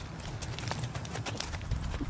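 Hooves of a young horse walking in a circle during a training exercise, a steady clip-clop of repeated footfalls over constant background noise.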